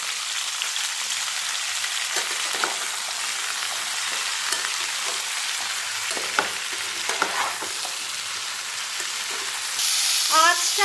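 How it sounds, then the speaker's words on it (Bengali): Winter vegetables fry over medium heat in a pan for Bengali masoor dal khichuri, a steady close sizzle with scattered crackles and pops throughout and a brief louder burst near the end. "আঁচটাকে আমি মিডিয়ামে রেখে সবজিগুলোকে এখন ভেজে নেব"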